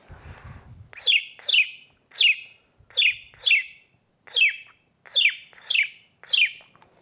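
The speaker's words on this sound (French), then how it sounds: "Et le rossignol qui vient participer à la conversation" A nightingale sings nearby in about ten short, bright, descending phrases separated by brief pauses, with no other sounds around it.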